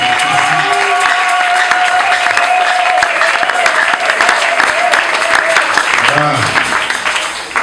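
Congregation at a church consecration of two ministers applauding and cheering loudly and continuously, with crowd noise, a sustained tone, and voices throughout.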